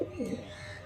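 Soft, low pigeon cooing, a brief rolling coo heard faintly against a quiet background.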